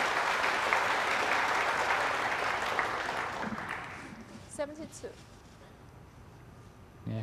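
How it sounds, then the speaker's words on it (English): A snooker crowd in Shanghai applauds an O'Sullivan break in broad, sustained clapping that slowly fades away, while a commentator talks through the last part. "Yeah, crowd applauding."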